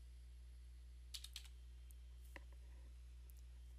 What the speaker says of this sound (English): We need to type in the word bio.